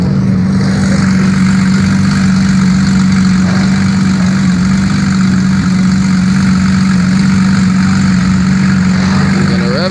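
A car idling at a car show, producing a loud, steady, close engine drone with a constant low hum and no clear revving.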